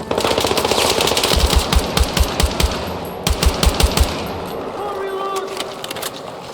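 Battlefield 6 gameplay with loud, rapid bursts of automatic machine gun fire, close and rhythmic, in several strings that fade toward the end, with voices shouting over the gunfire.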